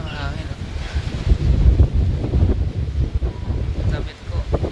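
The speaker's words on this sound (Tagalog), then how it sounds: "Ang lakas ng hangin." Strong wind gusting against the microphone outdoors, a loud low rumbling buffet that swells and dips across the clip, with faint voices underneath.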